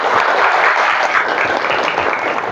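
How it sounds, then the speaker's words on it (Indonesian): A classroom audience gives steady, dense applause for a student presentation during a teaching-practice lesson, the clapping continuous and fairly loud throughout with no talk over it. "Ya, berikan aplaus dulu."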